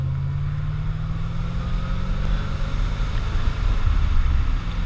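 C4 Corvette accelerating hard after a downshift into third gear, its engine a loud, steady low drone that swells slightly toward the end, heard from inside the car with wind and road noise and no talk.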